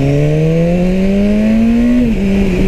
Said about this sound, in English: you can just keep the throttle pinned wide open and just keep shifting gears